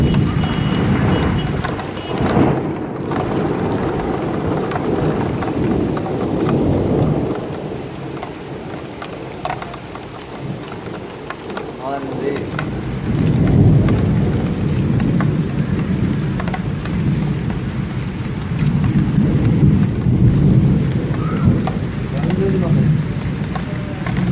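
Steady heavy rain roaring throughout in Makkah, with low rumbles of thunder swelling at intervals and a loud, continuous wash of noise.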